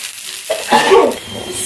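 Tapioca dosa fries in oil on a pan, with a close, crackling sizzle that swells suddenly after a brief quiet moment and then continues steadily.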